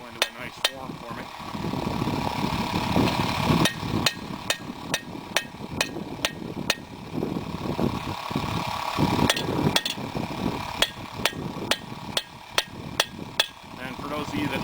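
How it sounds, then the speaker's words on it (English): A hammer rings sharply on an unmounted anvil while a meat hook is forged, with bright metallic strikes in quick bursts and spaced single blows, over a steady rumbling background. "this is a pretty good anvil. It's not even mounted or nothing, but it's got plenty of bounce to it."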